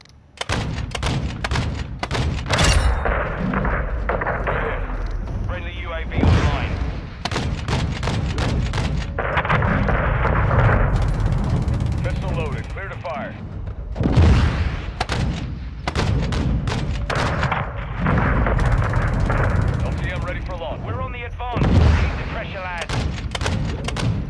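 Air support strike in Call of Duty: Modern Warfare 2: repeated heavy explosive blasts and gunfire bursts pounding steadily for many seconds, loud and close, with booming thuds over a dense combat din.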